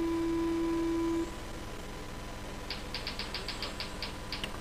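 A steady electronic start tone for a Super Stock 13.5 oval RC car B Main race sounds loud for over a second, then cuts off as a rapid series of faint ticks follows.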